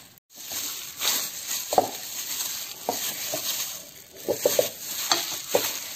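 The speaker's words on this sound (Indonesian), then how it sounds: "Lalu kita aduk lagi sampai adonan menyatu." Pempek dough is stirred after sago flour is poured in, giving a soft, continuous scraping stir with scattered sharp clinks of utensil against the bowl.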